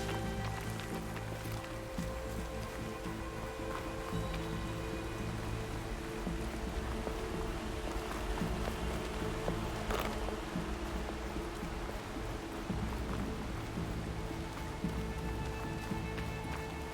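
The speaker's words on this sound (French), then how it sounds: "La pluie là-bas maintenant sur la région." Steady rain falls in the video game Horizon Forbidden West, a dense, continuous hiss of drops spread evenly across the scene, with faint game sounds mixed in.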